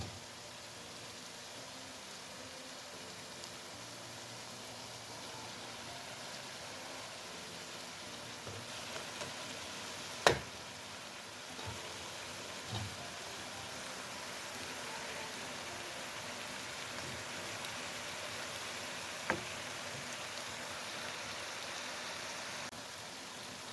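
Chopped onions hit a pan of boiled beans for lobya, giving a long, even sizzle with a soft hiss throughout and a few sharp clicks and pops here and there, with no talking.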